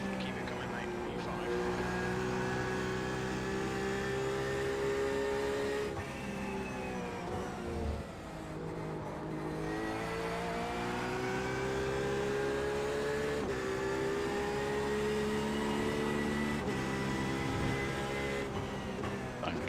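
An LMP prototype race car's engine drones steadily in the iRacing game during a 24-hour race at Road Atlanta, with pitch rising and falling through gear changes under continuous talk.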